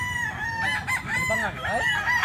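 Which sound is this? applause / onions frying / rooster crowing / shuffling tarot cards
rooster crowing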